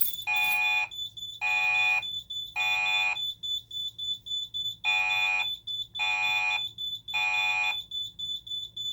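A Simplex 3001 fire alarm horn sounds loudly in repeated bursts with short gaps, a steady buzzing horn tone in a steady temporal pattern, heard alone close to the device.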